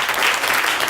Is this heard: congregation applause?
yes